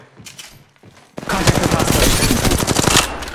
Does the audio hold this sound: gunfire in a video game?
yes